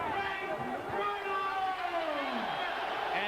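A large boxing arena crowd cheering for heavyweight Frank Bruno after his fight with Lennox Lewis, a steady roar of cheers and whoops with a commentator talking over it.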